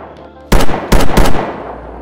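ASh-12 rifle firing in a video game with heavy 12.7 mm rounds: three loud, booming shots in quick succession, each leaving a short rumbling tail, close and alone with no talk.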